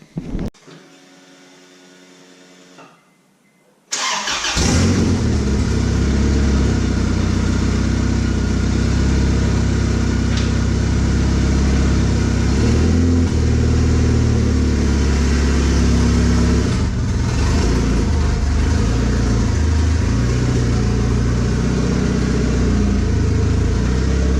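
A turbocharged Honda Accord engine idles steadily while warming up, a loud, continuous low rumble with a constant hum that starts abruptly after a few seconds of a quieter, buzzing prelude and holds evenly to the end.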